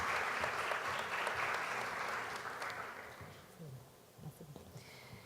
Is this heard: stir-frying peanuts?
no